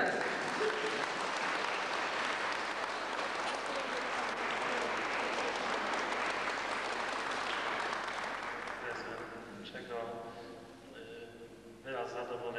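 Students at a school gym opening ceremony applaud in sustained, dense clapping that fills the room, then tapers off as a voice begins speaking near the end.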